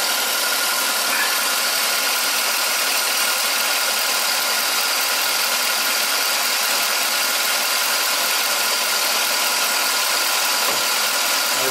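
A Chevy Tahoe engine idling with a misfire on cylinder five, a loud, continuous close-up hum with an uneven low-end stumble and a couple of brief dips near the end.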